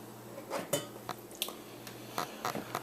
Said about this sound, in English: Just putting away some lids to some jars.